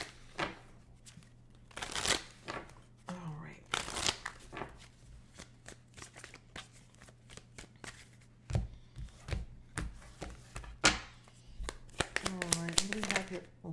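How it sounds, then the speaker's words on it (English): Oracle cards from a love-themed deck are shuffled and drawn in quick riffling bursts and soft slaps, spread through the passage under a talking voice. "So I'm going to pull four cards from the Situation Love Oracle deck."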